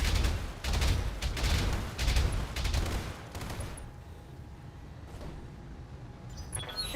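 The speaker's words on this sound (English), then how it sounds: "Firing." Rapid bursts of video game gunfire from a Vanilla Marik campaign rattle loudly through the first few seconds, then give way to quieter background ambience with a faint steady tone.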